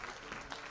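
Faint applause from an audience at a hackathon awards ceremony in Tunisia, a soft continuous patter of many hands heard from a distance.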